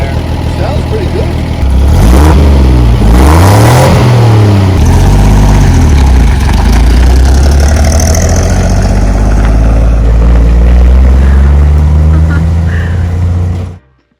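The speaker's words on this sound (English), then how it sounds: "it was so cool to see this truck finally run" A 1952 Ford F1 pickup's engine runs loud and close, revving up and down in several swells before settling into a steady drive-along drone, then cutting off at the end.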